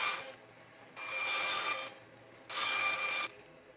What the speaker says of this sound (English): I'll start out by cutting out pieces to fit the scales.